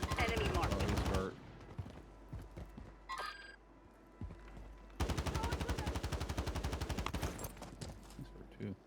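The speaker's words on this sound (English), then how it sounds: "We got people shooting over." Rapid automatic gunfire in a video game, two long loud bursts separated by quieter stretches with scattered single shots and faint beeps.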